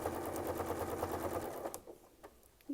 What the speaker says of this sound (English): pull him all the way forward, and we'll just sew the next one.